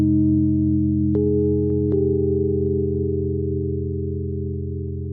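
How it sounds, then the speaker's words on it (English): Sustained tape-loop pad treated with chorus and a slow tremolo, playing steadily and alone with layered tones, a couple of faint clicks early on, and a gentle pulsing swell. "Let's add some chorus and a bit of tremolo at a slow rate."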